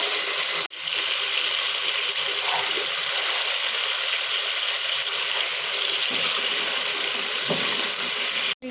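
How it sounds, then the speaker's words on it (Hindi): Meat and rice frying in masala for a biryani, a steady dense sizzle that holds evenly for several seconds with a short break near the start. "अब मसाले में डालकर अच्छे तरीके से इसको भूनेंगे।"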